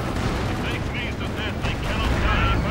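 Video game battle in Company of Heroes 2 with mortars and gunfire as Panther tanks advance, loud rapid bursts of fire and booms overlapping, with commentary talk running over the top.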